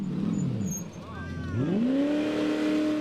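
An off-road 4x4 engine at the Hankook 4x4 Extreme Challenge in Steineck, 2018, drops in pitch, then revs up hard and holds a strong, rising roar, with a voice talking over it.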